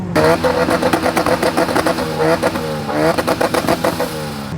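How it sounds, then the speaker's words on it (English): Several Honda car engines rev repeatedly nearby in a traffic jam at a Honda car festival, rising and falling in pitch in overlapping bursts, loud and close. "We've got a big jam and everyone is just completely revving up"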